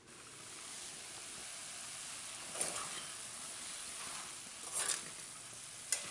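Cauliflower and green peas sabji sizzles softly in a pan while being stirred, with a steady frying hiss and a few brief scraping clatters of the spoon; nobody speaks.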